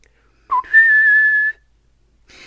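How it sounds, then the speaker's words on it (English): A person whistles indoors, a short rising note sliding into one sustained clear tone, near and moderately loud, then a faint breathy trailing sound. "So, stupidly, I whistled."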